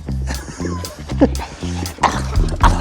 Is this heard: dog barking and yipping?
yes